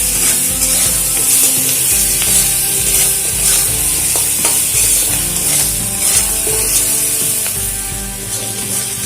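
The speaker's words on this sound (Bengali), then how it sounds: "বেশ ভালো দিয়ে দিচ্ছি লবণ হলুদ দিয়ে দিলাম এবারে ভালো করে আলুটাকে ভেজে নেব" Potatoes with salt and turmeric fry loudly in a pan, a dense continuous sizzle with repeated scraping and stirring of the spatula close by.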